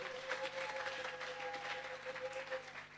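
A congregation applauds steadily during a church sermon, a dense, even wash of clapping sustained throughout, with no voice over it.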